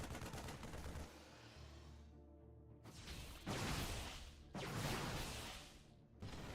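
Stalker units firing in a StarCraft II match, heard as loud bursts of rapid energy-weapon shots in distinct volleys with short gaps between them and no voices over them.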